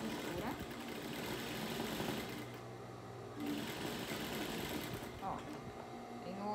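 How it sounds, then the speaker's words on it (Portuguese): A sewing machine runs a fine, delicate finishing seam on a fabric rag doll, a steady close mechanical whir that eases briefly in the middle before picking up again. "aqui a gente faz uma costurinha para dar acabamento"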